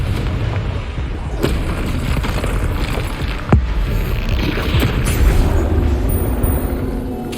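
Spell combat in Hogwarts Legacy on PS5, with a loud, continuous rumble of blasts and impacts. One sharper explosion stands out in the middle of the dense, near battle noise.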